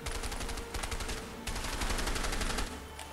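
Rapid automatic gunfire rattles in bursts during a shootout in the co-op video game A Way Out, loud and close, with a short pause before another sustained volley.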